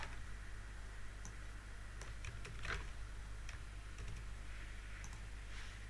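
Computer keyboard typing for a Microsoft Access query demo, a steady run of quiet, close key clicks ticking over a low hum with no voice.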